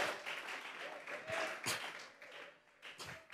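A church congregation claps along during a Spanish-language sermon, producing a dense, steady patter of hands with a few sharper slaps standing out, with voices blended in underneath.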